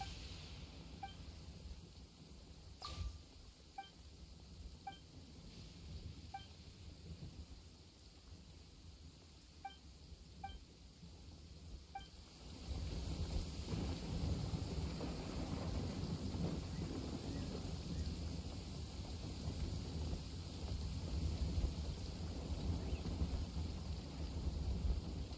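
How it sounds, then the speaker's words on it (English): A downpour in the Genshin Impact video game, with steady rain hiss, a soft distant thunder roll early on, and the rain swelling heavier and louder midway through, continuing without pause. "Taking a stroll in the middle of a downpour certainly rouses the spirit."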